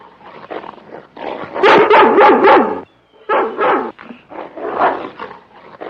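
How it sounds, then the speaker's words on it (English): A dog barks loudly and close by in several quick bursts, with yips and whimpering sounds mixed between the barks, pausing briefly before barking again. "Oh, that dog."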